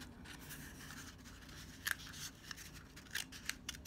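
Scissors snipping squares out of cardboard for a phone holder craft, a few sharp, close crunchy cuts spaced irregularly over a quiet room, no talk.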